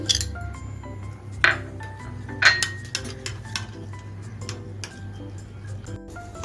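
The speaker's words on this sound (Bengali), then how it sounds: "সেই দুধের মধ্যে এখন আমি গুঁড়ো দুধটা গুলে নিচ্ছি" A metal spoon stirs milk powder into a small amount of milk for mango ice cream, clinking and ticking against the bowl in irregular taps over a low steady hum.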